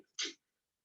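A single sharp, short imitated sneeze made by a human voice, a quick burst with a faint breath just before it, then silence.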